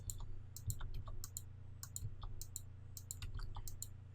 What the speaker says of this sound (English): got the old Dell keyboard back. It's not nearly as clicky